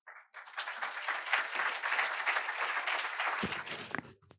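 Audience applause after a panel discussion on Puerto Rican radicalism, a steady dense wash of clapping from a seated crowd lasting a few seconds and tapering off at the end.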